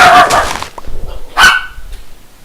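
Dogs bark in the background, several loud sharp barks and yips bunched together, close and harsh, with a shorter burst following after a brief lull.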